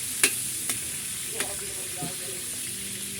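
Noodles sizzle steadily as they fry in a hot pan for pancit, while a utensil stirs, scraping and clinking against the pan a few times.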